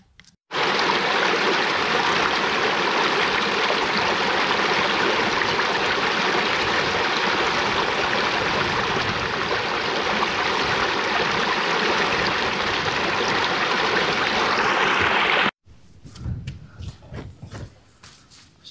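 A small river stream on a hiking trail near Meelmore rushes steadily and loudly close by for about fifteen seconds, then cuts off abruptly to quieter outdoor sound and faint footsteps.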